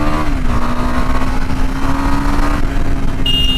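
A KTM Adventure 390 motorcycle engine drones loud and steady under acceleration, the pitch holding then rising slightly near the end, heard from the rider's position with wind rush.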